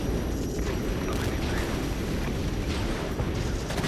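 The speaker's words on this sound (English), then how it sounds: "Napalm hit those sappers, but not the enemies down here." A napalm strike in the war game Regiments, a dense, sustained roaring rumble of burning blasts with scattered cracks over steady loud battlefield noise.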